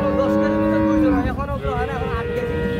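Holstein Friesian cow lowing loudly and close, one long sustained moo that dips and wavers in pitch toward the end, with faint farm background beneath.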